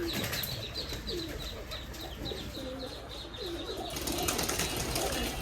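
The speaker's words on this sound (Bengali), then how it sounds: "তো সব ছাড়া হচ্ছে কবুতর" Racing pigeons coo repeatedly amid chirping, and toward the end a burst of wing flapping rises as birds are released and take off together.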